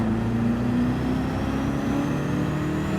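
A race car engine in Gran Turismo 7 hums steadily at low revs during quick gear changes, with a faint whine rising gradually and no speech.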